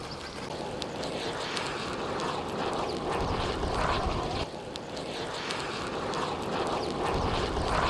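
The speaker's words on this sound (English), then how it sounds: "Vegetation engulfed and burned by the lava releases gases, producing flaming bubbles and noisy jets." Noisy jets of gas hiss and roar from vegetation burned by lava during a volcanic eruption, a steady, dense rushing noise with faint crackling, continuous and fairly loud throughout.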